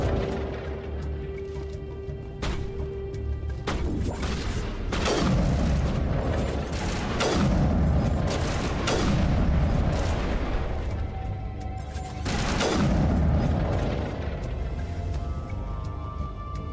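Repeated loud booming shots and bursts of gunfire in a Mass Effect firefight, spread across the scene with mechanical clatter and brief gaps between volleys.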